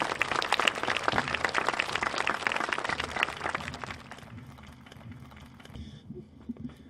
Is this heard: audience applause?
yes